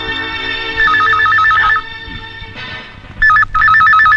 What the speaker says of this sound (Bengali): ফোন।